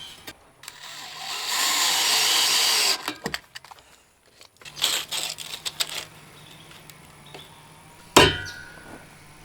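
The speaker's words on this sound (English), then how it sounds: "I'm just bolting them into the house here with some small lag bolts." Small lag bolts are power-driven into the wooden framing of a vintage house while new front steps are built. A loud sustained driving burst comes first, then shorter bursts and clanks, ending in one sharp bang.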